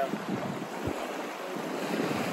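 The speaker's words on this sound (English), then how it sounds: "there's a strong wind here." Strong wind sweeps across a beach in northern Mauritius near Grand Bay, a continuous close roar with low microphone buffeting and a hiss like surf, with no talk.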